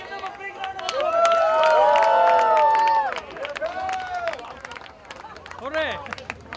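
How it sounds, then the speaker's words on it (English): Guests at a prize celebration for a children's charity event clap and cheer together, with loud whoops and shouted voices swelling for about three seconds before settling into scattered claps and crowd chatter. "Let's give them a big round of applause."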